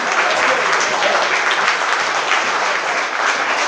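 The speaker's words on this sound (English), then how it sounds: "Another round of applause for Andrew Baldetti" Guests at a wedding reception give steady, full applause that stays even and unbroken from start to finish.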